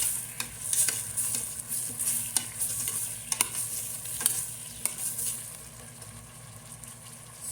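Chicken adobo with eggs being stirred in a pan, a steady sizzle with scattered utensil scrapes and clicks close by, no voices.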